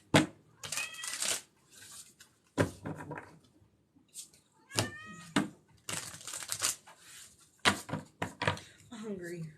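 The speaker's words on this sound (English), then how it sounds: "you hear more cats? I have 6 cats." Cats indoors at home, part of a household of six, let out a few meows: short, moderately loud rising-and-falling cries near the start, middle and end, mixed with sharp clattering and shuffling noises and some indistinct voice nearby.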